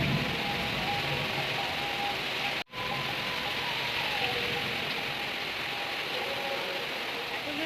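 Heavy rain pours down steadily, a dense, even wash of hiss that holds at the same loudness throughout, broken only by one brief dropout partway through.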